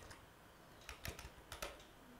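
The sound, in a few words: typing on a computer keyboard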